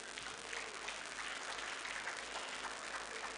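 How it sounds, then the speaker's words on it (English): Dense, steady audience applause fills an opening ceremony hall, many hands clapping continuously at moderate distance with no voices over it. "Now, you see the intensity of this clapping."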